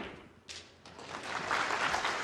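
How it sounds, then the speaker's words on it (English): A crowd at a snooker final bursts into applause that starts as a few sharp claps and builds into a steady, dense wash of clapping, fairly distant and moderately loud. "listen to the applause he's getting"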